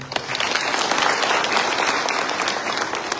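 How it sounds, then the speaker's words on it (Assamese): A crowd at a public meeting in Duliajan applauds together to approve committee members, a sustained burst of clapping that holds steady from start to finish. "এবাৰ সকলোৱে হাত তালি বজাই অনুমোদন দিব।"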